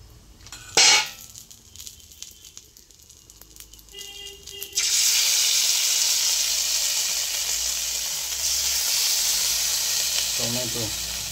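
Red chilli hitting hot oil in a pan while cooking vegetable chilli chicken, a sudden loud sizzle that swells into a steady bright hiss after a few faint clinks, then continues strongly.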